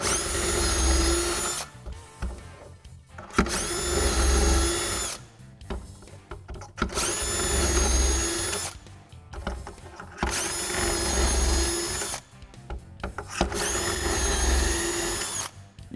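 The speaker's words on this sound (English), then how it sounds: "you can drill the rest of your holes" A power drill whirs in repeated bursts of about two seconds each, separated by short pauses, close and loud, as shelf pin holes are bored one after another with a jig and stop collar.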